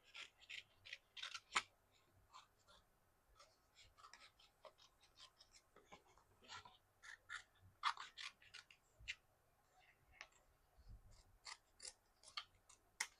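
Small snips of scissors cutting paper for a planner, a quiet scatter of short clipped cuts with pauses between, close and alone in a still room.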